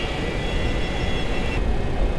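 Douglas DC-9 jet engines, a 1976-built airliner, roaring at takeoff thrust, heard from inside the cockpit as a loud, steady broadband rush.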